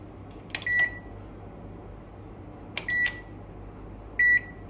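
A microwave oven hums steadily while its control panel gives three short, clear beeps, spaced apart, with no talk.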